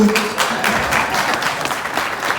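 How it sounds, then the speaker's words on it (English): Audience clapping at an annual general meeting of an association, a steady dense patter of many hands filling the room, fairly loud and continuous with no talk over it. "Hold that clap for me."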